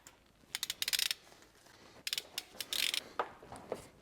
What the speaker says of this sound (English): Then lightly tighten it with a 17 socket.